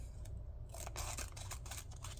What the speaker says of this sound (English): It actually scissors paper very well